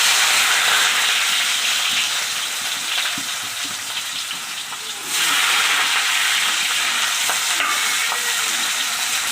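Four cut onions fry in ghee and white oil, a loud, close, continuous sizzle with steamy hiss that dips briefly midway and then surges back, with no voices.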